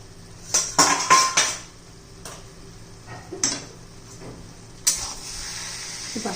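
Metal pot lid and utensils clatter while moong dal with onion cooks, giving several sharp clanks and scrapes spread unevenly over a soft background hiss, close and fairly loud, with no talking.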